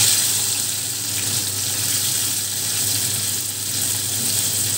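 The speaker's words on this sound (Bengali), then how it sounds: "এবারে নুন হলুদটা মাখিয়ে নিয়ে আমি মাছটাকে আগে ভেজে নেব।" Prawns coated in salt and turmeric frying in a pan for okra with prawn, a loud, steady sizzling hiss that stays constant from start to finish.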